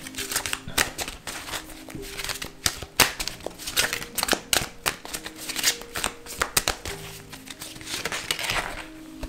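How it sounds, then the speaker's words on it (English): A tarot card deck being shuffled by hand, rapid riffling and crisp card slaps in irregular bursts, close and fairly quiet, with no talking. "So I'm going to go ahead and shuffle this deck and pull out a few cards"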